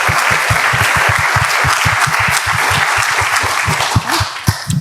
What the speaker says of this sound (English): Please give a round of applause to Deborah.